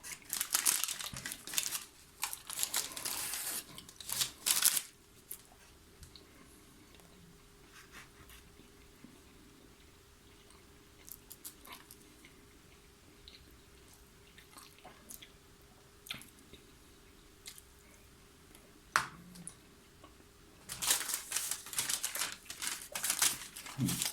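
Old-style newspaper wrapping around a pulled chicken sandwich crinkles and rustles in bursts at the start and end, with quieter scattered crackles in between, close up and with no speech.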